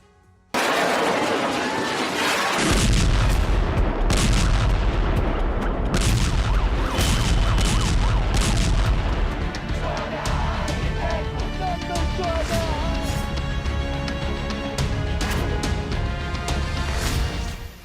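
Israeli bombs exploding in Lebanon: a dense, loud wartime soundscape with heavy booms and rumbling blasts, crashes and crackling debris continuing throughout, mixed with indistinct voices and chatter in the background.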